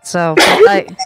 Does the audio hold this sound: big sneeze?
yes